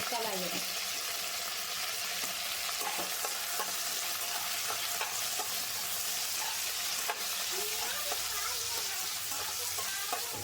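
Peanuts and curry leaves fry in a little oil for a tempering, giving a continuous close sizzle with intermittent spattering crackles and stirring scrapes, no voices over it.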